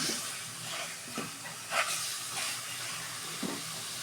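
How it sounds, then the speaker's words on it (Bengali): An egg fries in a pan, giving a steady, fairly faint sizzling hiss with a few soft pops, heard with no talking. "2-3 মিনিট আমার ডিমটা ভেজে নিলাম"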